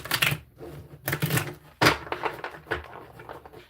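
Tarot cards being shuffled by hand, a series of sharp riffling bursts and soft slaps in irregular clusters, close and fairly loud, with no talking.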